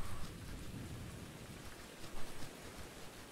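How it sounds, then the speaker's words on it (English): Steady rain pours in the survival video game Survisland, a dense broadband hiss of heavy downpour with a low rumble of thunder underneath, a few louder gusts near the end and no talking. "as it is raining more, getting heavier"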